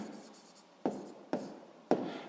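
Pen or pencil writing out the answer to a sixth-grade maths exercise on circle area, three short scratchy strokes close by over a soft background hiss, with no voices.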